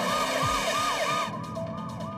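An ambulance siren wailing in a rising and falling pattern, steady and moderately loud for about two seconds, with no talk over it.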